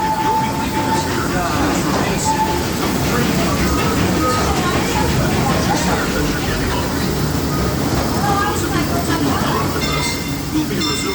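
The Disneyland Railroad train rumbles along steadily, with continuous wheel and car noise, faint clanks and squeals, and voices underneath.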